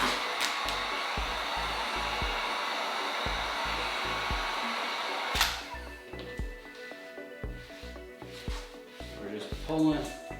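A heat gun blows with a steady whooshing hum as it warms vinyl wrap on a Ford Mustang GT, loud for about five seconds and then cutting off, leaving quieter handling noises and talk.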